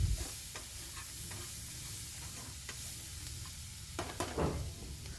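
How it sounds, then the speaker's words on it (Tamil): Masala and vegetables fry in a pan for egg noodles, a steady close sizzle with scraping stir strokes against the pan throughout. "நல்லா அந்த மசாலா வாசனை போகிற அளவுக்கு கொஞ்சம் நல்லா கிண்டி விடுங்க"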